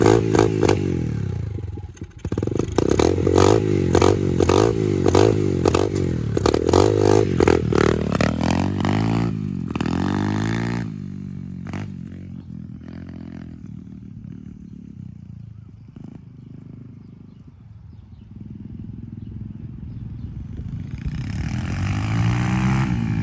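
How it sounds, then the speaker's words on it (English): A 150cc Evoque motorcycle exhaust rumbles and revs loudly in the first half as the bike pulls away, then settles into a steadier, quieter drone while riding, with wind and road noise behind it. "Listen to the exhaust, guys. This exhaust is crazy,"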